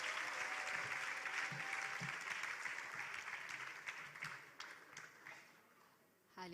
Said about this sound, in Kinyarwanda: Mudukomera amashyi ariko mudukunde.